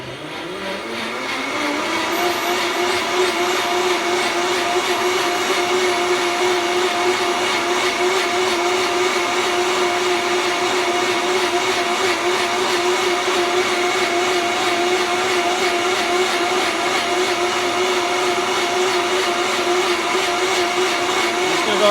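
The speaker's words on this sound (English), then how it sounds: "I'm going to actually do some soap and water and go ahead and blend that up." A Vitamix blender running a cleaning cycle with soap and water, a loud steady motor whir that spins up in the first two seconds and then holds constant and alone for about twenty seconds.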